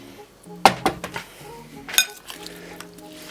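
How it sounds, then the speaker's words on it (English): Salad being tossed with dressing in a bowl, giving a few sharp clinks of utensils against the dish followed by softer scraping and rustling stirs, close and fairly loud. "Mix it all up,"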